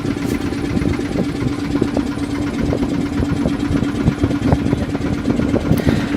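A boat engine drones steadily with a low, even hum and faint knocking, running nearby without pause on the Ganges River in Varanasi, India.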